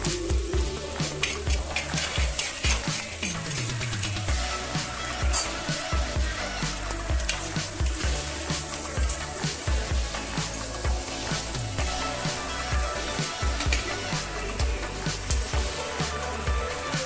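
Chopped onion and garlic frying in hot oil inside a clay pot, a steady dense sizzle running throughout with stirring scrapes and occasional pops, close and fairly loud, no talking.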